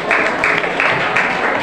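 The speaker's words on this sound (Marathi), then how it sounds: "जोरदार टाळ्या एकदा" Audience applause at a school annual prize distribution ceremony in Kharepat, a steady wash of clapping filling the hall for under two seconds, fairly loud with no voices on top.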